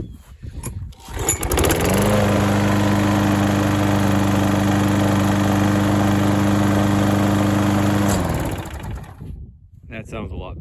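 A small cheap gas lawn mower bought at auction, recently diagnosed for not running, starts on a pull and runs at a loud, steady engine drone for several seconds before cutting out, then a person speaks briefly.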